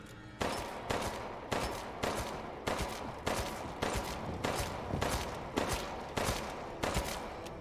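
Gunfire in the video game Resident Evil Village, with about a dozen evenly spaced shots ringing out roughly every half second, each a sharp crack with a brief decaying tail, fairly quiet overall and with no talk.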